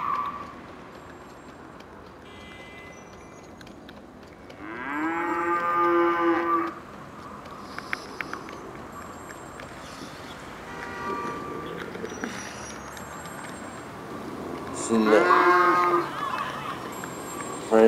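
Cattle moo in GTA Online, two drawn-out calls around five and fifteen seconds, loud against a low steady game ambience with faint scattered clicks between them.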